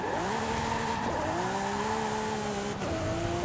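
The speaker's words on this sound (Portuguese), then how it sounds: "Nossa, o V12 Race, ele pega a velocidade." A V12 race-engine car accelerating in Forza Horizon 5, the engine note rising steadily in pitch with two brief dips where it shifts gear, loud and continuous with tire noise underneath.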